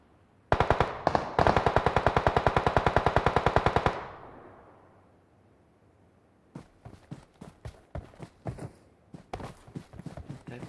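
Video game MetroRoyale: a sustained automatic burst of rapid gunfire rattles loudly for several seconds, then after a fading echo come scattered single shots and short bursts, some close and some more distant.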